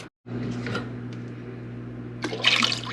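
Water runs steadily into a canner pot, a continuous rushing pour over a low hum, with a couple of clunks near the end.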